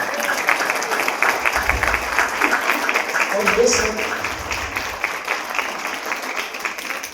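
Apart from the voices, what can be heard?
audience applauding loudly for guests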